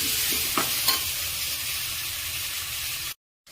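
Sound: stirring drumstick pieces and tomatoes cooking in a pan

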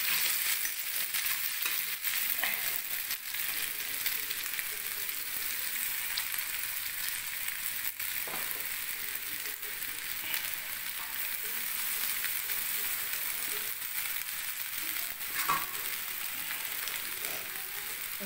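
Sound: chow mein stir-frying in a pan

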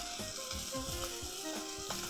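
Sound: leeks and garlic sautéing in a pan

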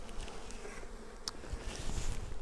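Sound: honey bees buzzing at a Flow Hive entrance

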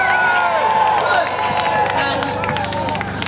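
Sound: crowd cheering for the fracking campaign at a climate protest

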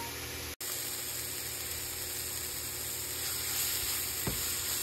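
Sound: samosa masala with turmeric, red chilli and cumin frying

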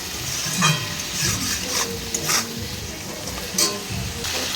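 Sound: prawns frying in a pan

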